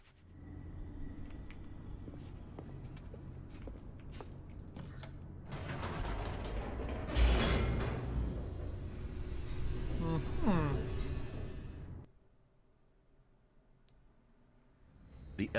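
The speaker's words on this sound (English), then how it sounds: "The elevator raced downward," An elevator descends in The Stanley Parable, with a steady mechanical rumble and creaking that swell into a loud, grinding rush midway, then cut off abruptly to near quiet.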